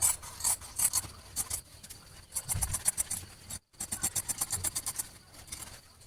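Scissors cut fabric to shape in quick rhythmic bursts of rasping snips, close and fairly quiet, with a brief pause partway before a rapid run of cuts resumes.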